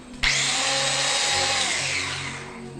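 A power drill from the horror film The Carpenter starts abruptly and whines loudly and steadily for over two seconds, its pitch sagging slightly as it bites in, up close with no speech.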